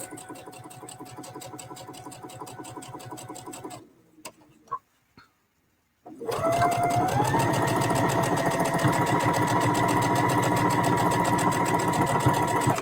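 A sewing machine runs a long straight line of stitches along the edge of fabric prairie points, with a steady, rapid mechanical whir. It stops briefly, a few soft clicks follow, and then it starts up again and hums on loudly without a break.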